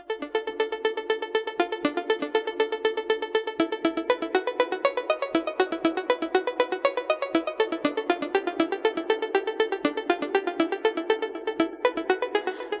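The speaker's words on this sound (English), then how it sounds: "This is an arpeggiator, a synthesizer arpeggiator" A synthesizer arpeggiator driven by a neural network in a browser plays a melody generated from held keyboard keys: rapid, evenly spaced bright notes repeat in a steady rhythm for the whole stretch, loud and alone.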